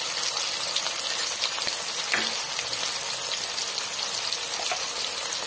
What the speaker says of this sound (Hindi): अब इसे अच्छे से फ्राई करना है।